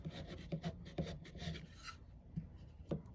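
Paper is burnished down onto a card crate with soft, close rubbing strokes, quiet and scratchy, coming in short repeated passes.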